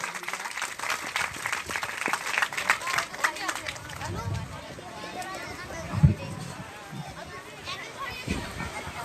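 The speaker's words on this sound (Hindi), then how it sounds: "जोरदार ताली बजाएंगे सब लोग।" Wedding guests clap loudly during the ring ceremony, a scattered, lively applause with crowd chatter and voices mixed in throughout.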